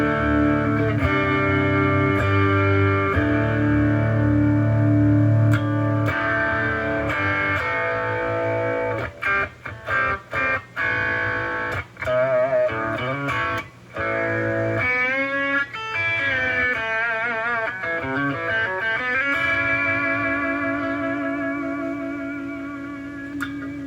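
Clean electric guitar through an Amplitude 5 amp simulator plugin modeling a '65 Fender Twin Reverb, playing chords and picked melodic lines with sustained notes and some quick choppy passages, no talking.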